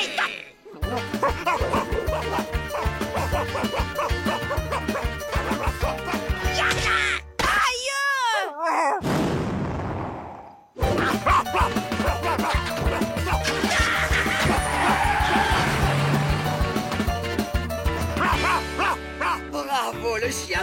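A cartoon dog barks loudly in a French animated family comedy, several sharp bow-wows and yips over busy music and dialogue, with a brief whimpering break in the middle.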